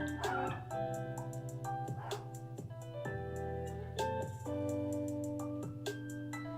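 A dog barks and yips indoors several times in short bursts, fairly faint behind a steady electronic hum and tonal background music.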